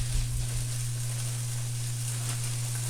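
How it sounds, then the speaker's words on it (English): Frozen peas sizzle and crackle in a hot pan as they saute for a pasta gorgonzola dish, a steady close hiss with no talking. "I'm gonna put my peas in. And they're frozen still, so I'm just gonna go ahead and pop a few in here"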